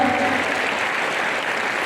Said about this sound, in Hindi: एक बार जोरदार ताली से स्वागत करिए इस बच्चे का।